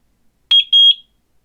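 A Eufy 2K dual camera video doorbell beeping as it is added to its app, a short pair of high electronic beeps, clear and close against near silence.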